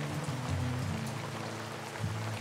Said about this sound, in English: Oh, look at that rain coming down.